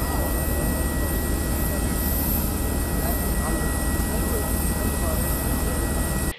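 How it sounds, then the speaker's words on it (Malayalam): A Hajj pilgrim flight carrying 145 pilgrims departs before dawn, its aircraft engines making a loud, steady, unbroken roar that cuts off abruptly at the end. "പുലർച്ചെ 4:15 145 തീർത്ഥാടകരുമായി ആദ്യ വിമാനം പുറപ്പെട്ടത്."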